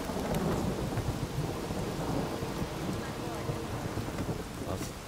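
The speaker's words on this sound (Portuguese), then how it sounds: "Olha a chuva que tá pegando aqui, mano. O vento, o frio." Steady rain and gusting wind fill an open-world scene in The Witcher 3, with thunder rumbling low throughout, dense and continuous at moderate loudness with no talking.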